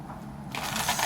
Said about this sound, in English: I'm going to shuffle and find out